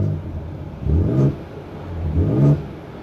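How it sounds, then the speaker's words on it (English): A 2024 Ford Ranger Raptor with a 3.0L twin-turbo V6 revs twice in sport exhaust mode, two deep rising blips that swell and fall back to a low idle rumble, close and loud. "Very good sounding exhaust of this V6"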